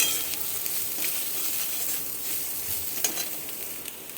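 A spice paste of turmeric, chili and coriander powder with salt and sugar fries in a pan, giving a steady, close, bright sizzle throughout with a few soft stirring scrapes and ticks.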